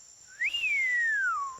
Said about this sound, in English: I've got a bad whistling habit